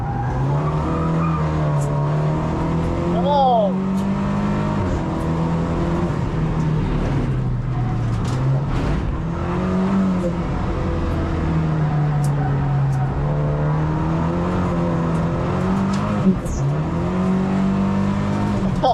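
A Lynk & Co 03+ race car works around a track, its engine droning and rising as it brakes and accelerates, with gear shifts and a brief tire squeal, close and loud throughout, while a driver's voice speaks over it.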